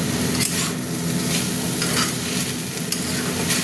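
Potatoes and sliced banana stem sizzle steadily in a pan with green chillies, a spatula stirring them in repeated scraping strokes over the continuous close frying hiss.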